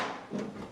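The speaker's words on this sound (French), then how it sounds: "J'ouvre mon panneau." A computer case side panel is slid open on an unplugged desktop PC, giving one short scraping, sliding rattle of metal up close, quiet and without talk.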